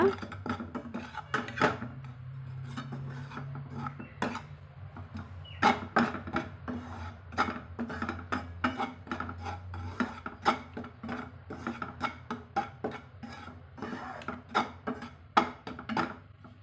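Pearl millet flour being stirred and dry-roasted in a pan, with a steady run of scraping and rasping strokes and light metallic clicks from the utensil, close and moderately loud with no talk.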